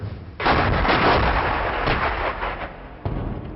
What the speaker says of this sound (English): I see artillery going in now